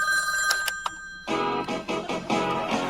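A telephone rings in a Seinfeld scene, a loud bright electronic ring with steady tones, followed by a brief burst of other sound.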